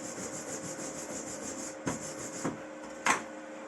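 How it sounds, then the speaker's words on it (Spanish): A hand wire brush scrubs a dirty flux-core MIG weld bead, giving a steady close rasping scrape with a few sharper strokes near the end. "Podemos limpiarlo o bien con un cepillo como este"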